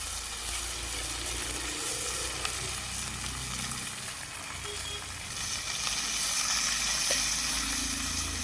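Ginger garlic paste and spring onion sizzle and spatter steadily in a very hot kadhai over a wood-fired stove, a continuous frying hiss that grows a little louder partway through.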